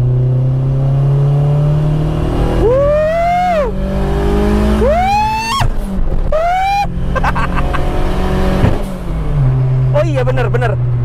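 A Mitsubishi Lancer Evo VI engine revs up in several sharp rising bursts with a whining, turbo-like climb, loud and close, with people talking over and between the revs.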